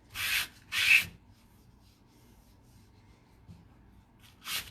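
Furniture is sanded by hand in a few short, sharp rubbing bursts with quiet pauses between them and no talk over the strokes.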